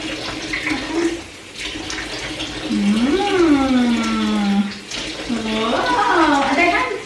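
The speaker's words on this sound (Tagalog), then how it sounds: "Wash hands. Come on. Turn around. Washing, washing." A tap runs steadily while a small child's hands are washed at a sink, the water flowing under an adult's coaxing voice and the child's high vocal sounds.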